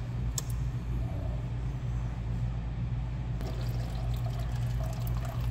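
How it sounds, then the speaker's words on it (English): A watermaker boost pump runs submerged in a 5-gallon bucket of water, giving a steady low hum with churning, watery noise throughout. "just take a 5 gallon bucket, drop the boost pump in, and then turn on the boost pump here"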